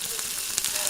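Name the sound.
potato fries frying in oil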